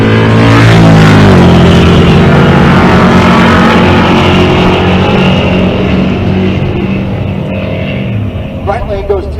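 Naturally aspirated small-block drag racing car launching at a Pueblo, Colorado race event, a loud, sustained engine roar that climbs in pitch and then fades slightly as it pulls away.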